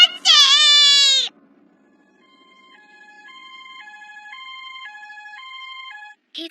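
Ambulance siren wailing in a steady two-tone pattern, fairly clear at moderate distance, following a sharp high-pitched voice at the start.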